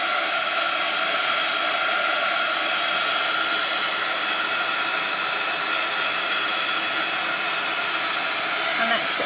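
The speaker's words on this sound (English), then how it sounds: "I'm going to dry this, so let's grab our heat tool." A heat tool blows steadily and loudly at close range, drying a freshly worked journal page in one continuous breathy roar with no break.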